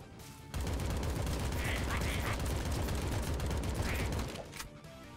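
Fast-firing shots in an axolotl roguelike video game, a tight rapid stream of clicking blasts running steadily for several seconds before cutting off, with faint game tones on top.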